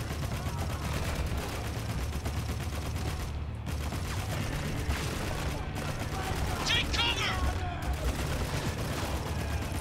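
Heavy machine gun fire in the video game Spec Ops: The Line rattles in a dense, continuous stream of rapid shots with explosive booms, while a voice speaks over the gunfire.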